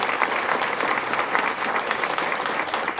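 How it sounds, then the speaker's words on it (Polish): A concert hall audience gives sustained, even applause for the director of a ballet studio at a musical show, the clapping dense and continuous throughout. "Wielkie brawa dla pani Małgorzaty."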